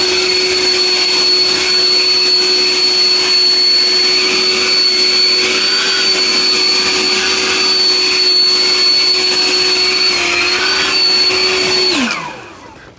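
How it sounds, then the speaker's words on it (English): A Flowzone Vortex battery-powered mist blower runs steadily with a loud, high, whining fan roar that holds constant for many seconds, then winds down sharply near the end. "I'm just demonstrating the power of the blower"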